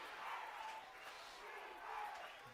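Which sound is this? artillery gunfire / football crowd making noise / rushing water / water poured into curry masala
football crowd making noise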